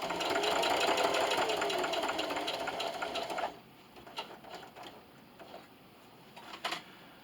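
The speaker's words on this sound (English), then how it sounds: "And then I'm just going to continue to sew until I'm an 1/8 inch away from the end of our strap." A sewing machine stitches a strap for a plastic bag dispenser, a fast, steady mechanical whir for a few seconds before it stops, followed by faint clicks and handling sounds.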